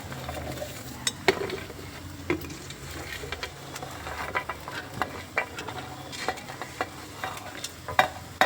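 Garlic, coconut and spices, including turmeric and coriander powder, roast in a pan. A soft background sizzle runs through it, broken by repeated sharp scrapes and clinks of a spoon stirring against the metal, close by and irregular.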